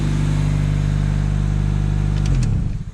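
A Honda Civic EJ9 parts car engine idles loudly and steadily with a deep hum, then shuts off near the end with a few faint clicks.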